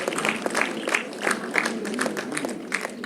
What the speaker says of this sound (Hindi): जोरदार तालियों से उनका स्टेज पर स्वागत करेंगे,